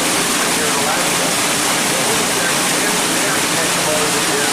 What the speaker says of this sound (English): So we are using a thruster to make this quick turn.